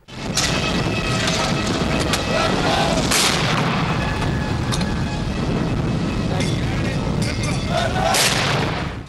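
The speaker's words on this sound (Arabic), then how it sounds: "وأطلقت المدفعية وعشرين طلقة لدى دخول الرئيس بوتين قصر القبة" Artillery firing a twenty-one gun salute for Putin's arrival at Qubba Palace in Egypt, with heavy booming blasts spaced several seconds apart over a dense, continuous rumble, loud and sustained, and a voice faintly audible underneath.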